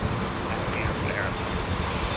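A WestJet airliner passes on a windy arrival at London Heathrow Airport, a steady broadband roar of engine and rushing air holding at constant loudness throughout, with no clear rise or fade.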